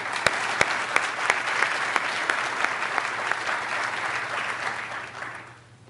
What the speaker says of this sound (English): So can we please welcome Professor Kim up to stage with a round of applause.